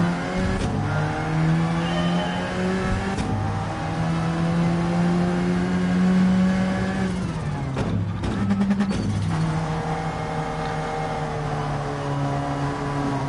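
An Alfa Romeo race car in Gran Turismo 7 on the Eiger Nordwand circuit, its engine droning steadily at high revs, then dropping sharply through a downshift and climbing again, loud and close throughout.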